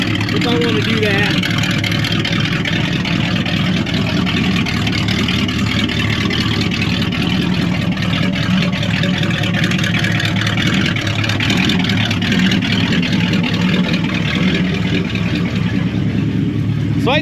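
Car fitted with a custom H-pipe exhaust runs steadily near the microphone, a continuous low engine rumble with a broad roar throughout, with a voice talking over it.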